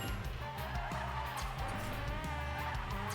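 Car in a racing video game drifting on a parking garage rally circuit: a steady engine drone with sustained tyre-squeal skidding throughout, loud and continuous, with no talk.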